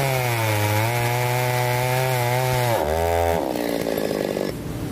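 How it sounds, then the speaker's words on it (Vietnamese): A chainsaw roars loudly at steady high revs, then the pitch shifts and drops as it bites into the wood of a longan tree before easing off. "Giờ anh Tùng lấy cái máy lớn lại để cưa bật gốc nhãn nha quý vị"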